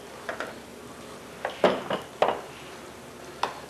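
Chili with cumin, cinnamon and salt being stirred in a small frying pan, a handful of sharp utensil clinks and scrapes against the pan in an irregular rhythm, close and fairly quiet with no talk.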